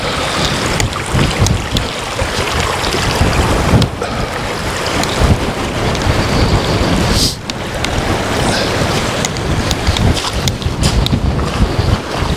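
Strong 50mph wind roars continuously across an exposed wild campsite, buffeting the microphone with loud, unbroken gusts and a brief dip partway through.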